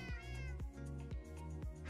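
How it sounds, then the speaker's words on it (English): Cats in the game Minecraft meow repeatedly, in a regular rhythm of drawn-out calls set against a steady musical background, fairly quiet overall. "The cats making all that noise is so funny."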